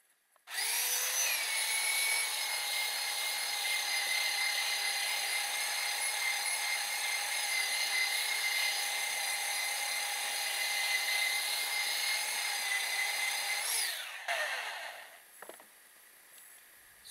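A power saw cutting through a wood board for an end table, a loud steady high whine running for about thirteen seconds before spinning down into quiet.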